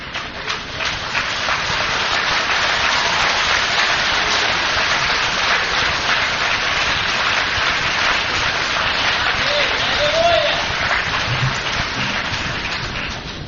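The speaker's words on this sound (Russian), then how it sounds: "Дайте Иисусу аплодисменты." A church congregation applauds for Jesus during a sermon, a dense, steady wash of many hands clapping that fills the room at even loudness from start to finish.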